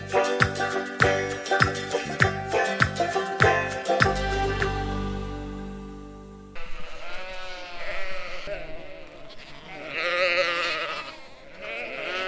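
Sheep, ewes and lambs bleating around ground feeding, a rapid series of loud close calls at first, then scattered overlapping bleats from the flock with some distant ones.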